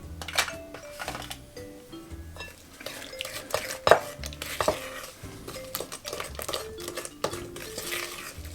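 Eggs are worked into blueberry muffin batter in a bowl: a utensil scrapes and knocks against the sides in irregular strokes, with sharp clinks, over soft tonal background sound.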